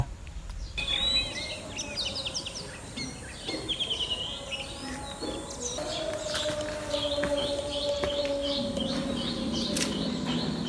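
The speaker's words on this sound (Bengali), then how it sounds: "রয়েছে পাখির কিচিরমিচির শব্দ" Birds chirp and twitter in quick bursts at moderate distance over a steady outdoor background at the old Kaunia zamindar house, with a faint droning hum joining midway.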